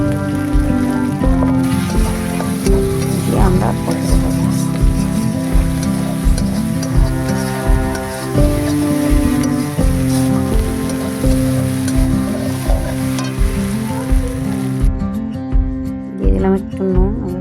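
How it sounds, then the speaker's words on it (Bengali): Spice paste for a banana-flower mochar ghonto sizzles as it is stir-fried in a pan, a continuous crackle sitting under loud, steady background music. "আবার মশলাটা সুন্দর করে কষে নিই"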